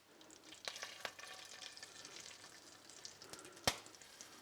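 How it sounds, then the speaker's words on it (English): Chicken livers frying in a large pan, a soft steady sizzle with occasional crisp pops and spatters. "We're gonna start off with frying the chicken livers."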